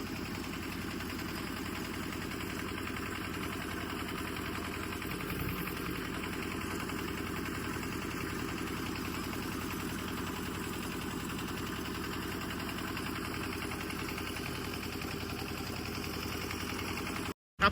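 A boat engine drones steadily on Gobind Sagar lake near Bhakra Dam, a continuous mid-to-low idling hum with slight vibration, unchanging and close throughout, cutting off abruptly at the very end.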